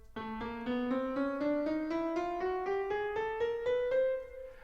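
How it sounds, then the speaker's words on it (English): A chromatic scale rising note by note on guitar, about a dozen evenly spaced plucked tones climbing steadily in pitch, clean and fairly quiet, played alone without talk. "All right, a chromatic scale."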